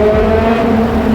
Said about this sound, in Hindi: मुझे सिर्फ गाड़ियों की आवाजें सुनाई दे रही हैं अभी इस रोड पे।